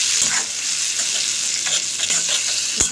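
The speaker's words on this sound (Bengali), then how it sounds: "আদা পিঁয়াজ এবং রসুন কাঁচা লঙ্কা বাটার যে টেস্টটা সেটা একসঙ্গে নিয়ে মিশিয়েছিলাম সেটা আমি ভেজে নিই" Ginger, onion, garlic and green chilli paste fries in a pan for a Bengali katla fish kalia, a steady close sizzle with occasional scraping stirs and no voices.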